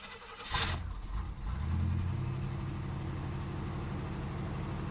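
A 1978 Oldsmobile Cutlass 403 V8 parts car, left sitting for about a month, cranks briefly and fires up, then settles into a smooth, quiet, steady idle.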